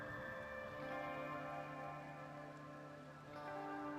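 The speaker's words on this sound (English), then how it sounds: "And it's raining, too." Steady rain falls in the video game Rimworld, a continuous soft patter under sustained tonal background music, with no talking.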